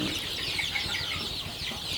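Caged chickens on a poultry farm cluck and chatter together in a busy, overlapping flock, close by and steady, with no talk over them.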